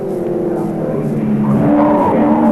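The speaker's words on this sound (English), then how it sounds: "Oh, out of there, tyres squealing out towards the wall." A 1983 touring car roars past at Bathurst, tyres squealing in a sustained high screech over the engine noise as it slides toward the wall, loud and close.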